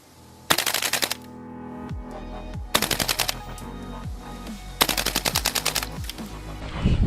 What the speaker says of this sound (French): Test de tir du M4 GHK Cybergun.